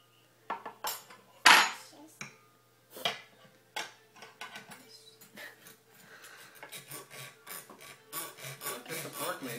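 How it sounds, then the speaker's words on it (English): Cutlery scrapes and clinks on a plate while sausage is cut at breakfast, a series of close, uneven knocks and rasping strokes growing busier toward the end, with no talking. "Show Daddy how you cut the sausage again."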